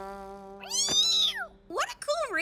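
A cartoon cat gives a couple of high, bending meows, a long rising-and-falling call followed by a shorter wavering one, loud and close over a steady background tone.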